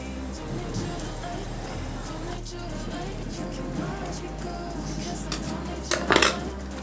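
A knife cuts through soft coconut burfi on a plate, giving light scrapes and a few sharp clinks of metal on the plate near the end, over a steady low kitchen hum.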